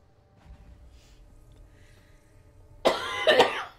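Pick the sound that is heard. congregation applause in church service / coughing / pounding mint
coughing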